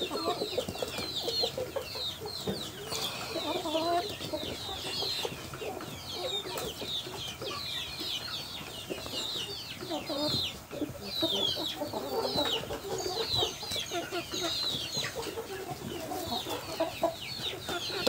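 Chickens cluck and a rooster calls steadily among a flock while a rooster's beak is being trimmed, the clucking dense and continuous at moderate level with scattered bird calls throughout.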